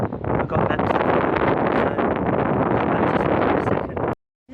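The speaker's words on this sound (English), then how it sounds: "I had to find some spots because it's quite windy outside." Wind blowing outdoors at Tower Hill, London, heavy steady buffeting against the microphone for about four seconds before cutting off abruptly.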